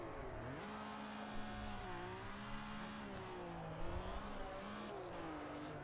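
Race car engines roar and rev at the start of a race in the Automobilista 2 sim, rising and falling pitches of several cars layered into a dense, continuous drone with no talking.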